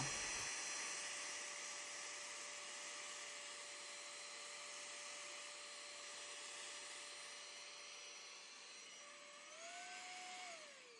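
A vacuum cleaner cleaning Lego bricks runs continuously as a steady, loud motor whine with a sustained tonal hum, shifting pitch slightly near the end, with no talking.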